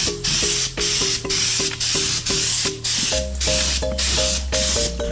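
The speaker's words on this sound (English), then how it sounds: "we've got the tail section sprayed now" Spray gun misting primer onto a motorcycle tail section at home, loud steady hiss in repeated bursts of about half a second with brief gaps, a droning compressor hum running underneath.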